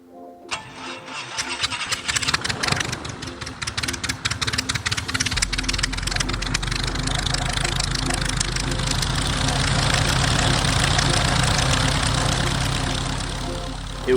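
A Cessna 140 light aircraft engine turns over with rapid cranking pulses, catches after several seconds and settles into a loud, steady idle close by, its first run in over six years.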